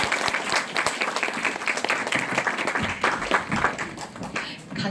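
A lecture audience applauds, with dense overlapping hand claps forming a steady, lively round that continues without a break.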